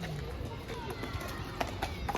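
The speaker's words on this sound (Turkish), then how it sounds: "Arkadaşlar atlara bakın." Horses walk at a zoo, their hooves clip-clopping in an irregular rhythm over a steady outdoor background, with a few sharper hoof knocks near the end.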